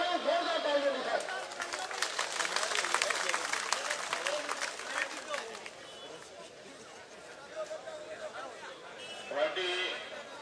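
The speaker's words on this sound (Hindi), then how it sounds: "जोरदार तालियों के साथ" Crowd applause greeting a speaker at an outdoor political campaign event in a village square, a fairly faint, busy patter of clapping mixed with crowd murmur and voices, swelling early and then fading.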